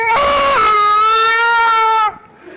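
A loud human voice imitates a cat yelling meow in one long, wavering, nasal wail that breaks off abruptly, followed by quiet room sound.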